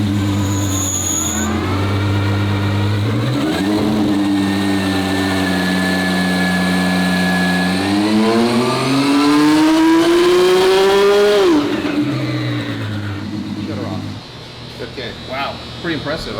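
A twin-turbo Ferrari F12 engine revs hard on a dyno, its loud harmonic roar climbing steadily through the gears before the throttle lifts and the sound drops away to a lower idle-like rumble.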